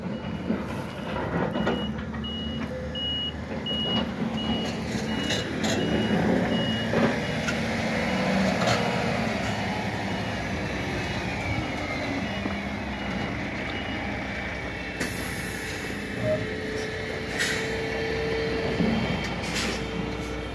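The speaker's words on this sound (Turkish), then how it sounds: "Şu anda da kepçeler çalışıyor." Heavy excavators work at an earthquake housing construction site, with a steady machine rumble, a reversing beeper sounding intermittently and truck and air-brake noises in the background.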